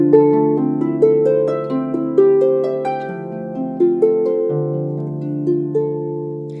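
Plucked harp notes ring over one another in a flowing, repeating chord pattern, each pluck sustaining as the next begins; no voices.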